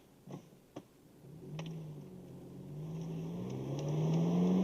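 A 2006 Honda Civic Si engine pulls through the gears, its rising drone climbing steadily in pitch and loudness after a couple of sharp clicks at the start, with no talking over it.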